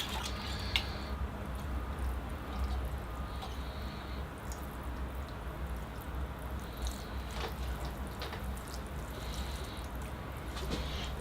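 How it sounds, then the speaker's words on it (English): Water poured over a larch bonsai in spring, soaking into moss and soil, giving a steady close trickle and splash with scattered drips, continuous and fairly quiet throughout. "I'll give it a watering and then I'll keep going. All right, here I go with the water."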